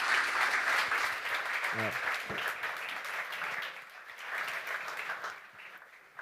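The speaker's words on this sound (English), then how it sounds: "This is your applause." Audience applause for panelists at a New Year's event, sustained clapping that fades gradually over several seconds, with a brief voice and speech over it.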